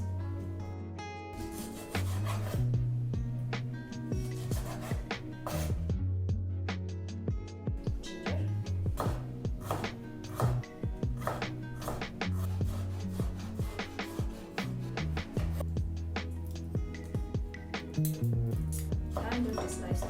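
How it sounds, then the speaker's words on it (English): Ginger sliced with a knife on a cutting board, heard as a fast, steady run of close, crisp chopping taps over about twenty seconds, with a low tonal hum running beneath. "I'm going to cut into slices."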